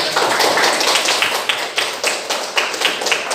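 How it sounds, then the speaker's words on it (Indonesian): A class of students clap together in a steady, dense patter that goes on throughout, loud and close, with no talking. "Tepuk tangan dulu."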